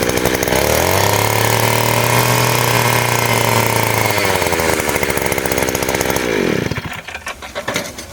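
A 71cc mini weeder engine with a 3-foot blade runs loud and close, rising from a steady idle to a harsh revving chatter before quickly dropping off, with no talk over it.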